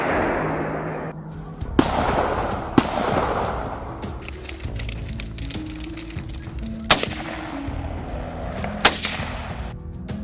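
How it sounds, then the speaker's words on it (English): Barrage of gunfire across a field on a tomato farm hit by wild boar, several sharp loud reports spaced out over rumbling, echoing background. "a barrage of gunfire echoes across the field"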